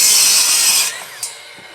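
A power miter saw cuts a 15-degree compound miter in wood for a sawhorse: a loud, close whine that cuts off after about a second, leaving a fading spin-down and a small clack.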